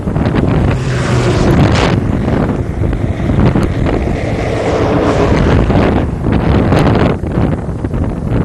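Strong wind blasts across an open outdoor test section on a road, buffeting the microphone in a continuous, loud roar that rises and falls in gusts, with no talk.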